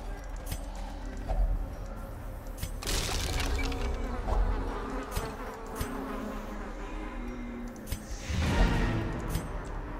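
Bees buzzing from a hive in the video game Darkest Dungeon, a continuous insect drone with a couple of louder swells, heard alone without speech.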